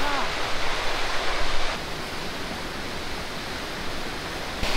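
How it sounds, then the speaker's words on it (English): Steady, broadband roar of the Aira Force waterfall in the Lake District in winter, loud and close, filling the whole clip without pause; a faint voice surfaces briefly near the end. "and there's a waterfall."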